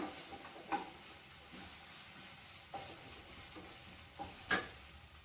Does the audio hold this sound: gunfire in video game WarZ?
no